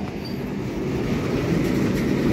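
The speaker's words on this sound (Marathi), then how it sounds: "ही पहा ट्रेन ची पटरी घेऊन चाललेली आहे" Train hauling railway track rails near Beed, a brief steady rumble of rolling wagons, close and continuous with a faint rattle, no talk.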